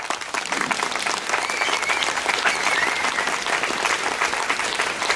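An audience at a ceremony honoring The Flame of Truth at the Pagode de Vincennes applauds warmly, a dense, steady wash of clapping that holds evenly throughout.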